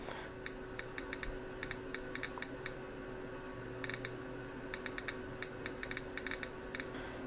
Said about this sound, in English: every time it clicks, you get another count